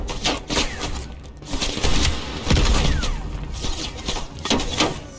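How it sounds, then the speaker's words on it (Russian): Heavy gunfire and explosive launcher blasts in a Call of Duty: Black Ops Cold War firefight, with rapid overlapping shots and repeated booming impacts filling the scene continuously. "нам что, перестрелка гранатометами?"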